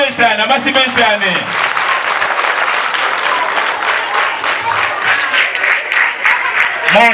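Loud, sustained audience applause at a children's karate and acrobatics club show, dense clapping filling the room throughout, with a voice speaking over it at the start.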